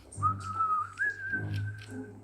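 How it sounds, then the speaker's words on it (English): A single person whistles a Western-style tune, one long sliding note that steps up partway through, held alone and fairly close. "The Western whistle."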